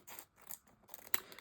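A few crisp snips of scissors cutting through thin plastic, with a sharper cut near the end, close by and fairly quiet.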